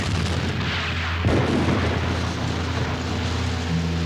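Covering gunfire and artillery in a Sherlock Holmes audio drama, a heavy continuous rumble of distant fire with a sharp boom just past a second in, loud and dense with no speech.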